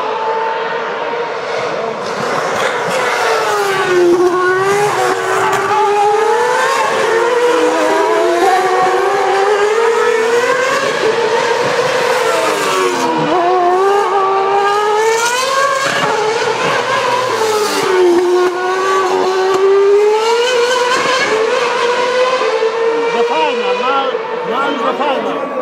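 Formula 1 race cars in the final laps at Monza in 2010, screaming engines rising and falling as cars pass in loud succession, with commentary over them throughout.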